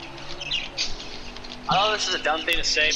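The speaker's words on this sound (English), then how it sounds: "someone tell those birds to shut the fuck up" Small birds chirp and tweet in quick bursts at the Phoenix race track, fairly close, beneath someone talking over them.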